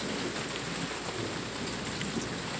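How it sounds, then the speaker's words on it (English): Steady rain during a thunderstorm, a dense continuous hiss of drops falling on surfaces, fairly close and even throughout with no voices or clear thunderclaps. "Some rain. Mostly lightning."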